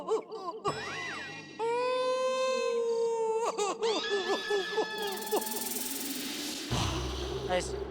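A person imitates a dog howling with long, rising and falling wavering cries, interrupted briefly by a spoken word in Hindi.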